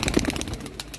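Soft low pigeon coos, a couple of short throaty notes close by, over a busy background of rustling and faint chirps.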